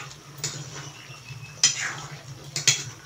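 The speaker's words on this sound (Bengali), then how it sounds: "ভালো করে নেড়ে চেড়ে মিশিয়ে নিচ্ছি" Goat meat with potatoes, cumin, coriander and salt is stirred in a cooking pot, with a spoon scraping and clinking against the metal in three distinct strokes over a soft background hum.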